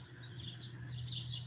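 Faint birdsong from a meadow at sunset, thin high chirps and tweets drifting over a low steady hum, quiet and distant, with no talking.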